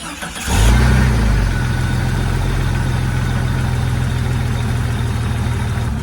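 A car engine turns over and catches, then settles into a steady, low rumbling idle that runs on evenly and close by, with the cap off for a head gasket check.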